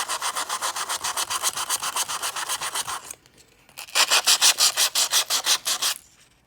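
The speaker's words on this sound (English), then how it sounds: "So all you need is some sandpaper, and you are going to sand it off." Sandpaper scrubs the misprinted print off a stainless steel straw in fast, loud, rhythmic rubbing strokes, pausing briefly before a second burst of vigorous back-and-forth sanding.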